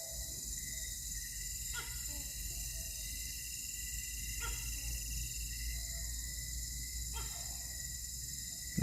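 A tokay gecko's clicking call repeats three times at even intervals, fairly faint against a steady night background of insect drone.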